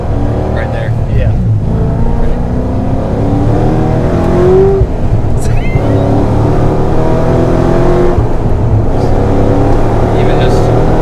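A modified Corvette C6 Z06 accelerates hard, its loud engine note rising in pitch through several gears with brief drops at each shift, heard close from inside the car while people talk over it.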